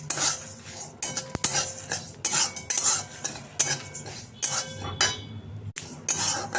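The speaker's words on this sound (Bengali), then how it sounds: "এবারে এটাকে ভাজবো, আর তার সাথে দিয়ে দিলাম একটা শুকনো লঙ্কা।" White sesame seeds and a dried chilli frying in a pan, stirred with a metal utensil that scrapes and clinks steadily against the pan in repeated close strokes throughout, with no talk.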